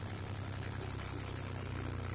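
A tractor trailer's diesel engine idles steadily with a low, even throb and vibration while the clutch is slowly released, close and continuous with no talk.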